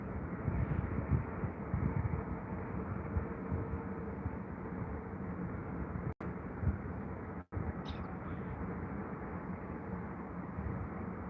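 Jet airliner arriving at Heathrow over the end of runway 27, a steady broad engine roar held throughout at moderate distance, with no talk.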